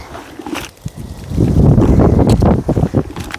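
Strong wind blows across a vegetable garden during seed planting, a loud gusting roar that swells and dips in bursts against the microphone, heard on its own without speech.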